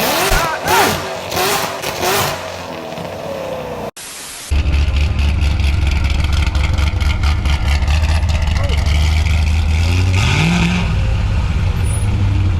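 A car fitted with aftermarket headers bursts into a loud, sustained rev close by, its deep engine roar filling the rest of the moment after a stretch of voices and background noise.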